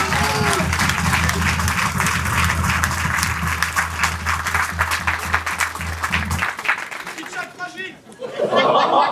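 Crowd applause breaks out for the cantinière at a carnival enthronement, dense clapping under chatter and light laughter with a low hum, then the clapping cuts off and a voice speaks before noise swells again.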